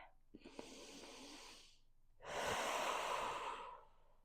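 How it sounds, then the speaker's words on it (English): A slow, deep breath during a floor-based hip mobility exercise session: a soft inhale followed by a longer, louder, airy exhale, close to the microphone with no talking. "Let's take one deep breath."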